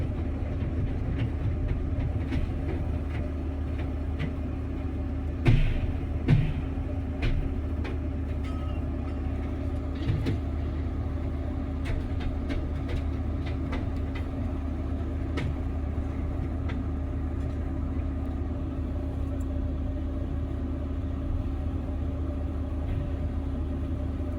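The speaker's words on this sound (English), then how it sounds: "we're crushing a street sweeper" A car crusher flattening a street sweeper gives a steady, heavy mechanical rumble throughout, with a couple of louder crunching bursts near the start and scattered creaks and snaps.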